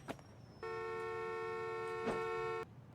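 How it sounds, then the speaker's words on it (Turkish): A single sustained car horn in a parking simulation video game blares for about two seconds, loud and steady, then cuts off abruptly. "Neye korna çalıyorsun lan?"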